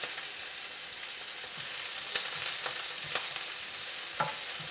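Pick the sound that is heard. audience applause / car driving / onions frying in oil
onions frying in oil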